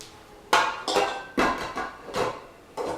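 Ingredients for tempeh energy bars knock and clatter in a mixing bowl, with five sharp, fairly loud hits at uneven intervals, each trailing off briefly, and no talking.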